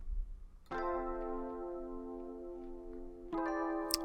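A clean Rhodes electric piano from the Keyscape library plays a sustained chord with no effects, then shifts to a second chord about three seconds later, each ringing steadily and close with no voices.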